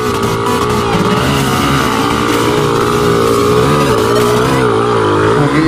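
Motorcycle engine laboring loudly and steadily up a steep mountain road in Candelaria, a continuous close drone with shifting pitch as the rider climbs, no voices.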